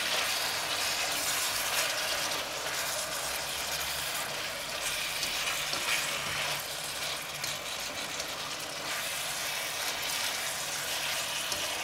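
Beef in a pan with three spoons of adjika being stirred, a steady broad sizzle and hiss with faint scraping underneath, continuous and close, no talking.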